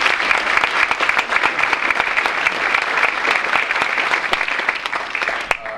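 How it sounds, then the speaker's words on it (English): A round of applause fills a Veterans Day ceremony, many hands clapping steadily and loudly for about six seconds without a break before tapering off at the end. "We can give them a round of applause."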